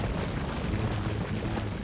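In Resident Evil 4, an explosive blast lands as a dense, sustained roar of rumbling noise lasting the full couple of seconds, loud and close.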